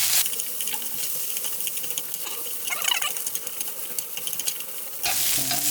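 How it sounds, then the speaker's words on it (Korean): Ham frying briefly over high heat in a pan for gimbap makes a steady close sizzle, with light stirring and scraping throughout and a brief louder crackle near the end. "여기서 햄은 간을 안 해도 되는데 그냥 이게 뜨거운 불에 살짝만 익혀줄게요"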